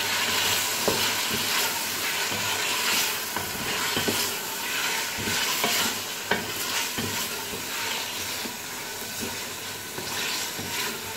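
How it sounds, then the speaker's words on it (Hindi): Beef pieces fry in a pan for a yakhni pulao, a steady loud sizzle with scattered crackles and occasional scraping stir strokes throughout. "और ऐड कर देंगे बीफ, इसको थोड़ा सा फ्राई कर लेंगे"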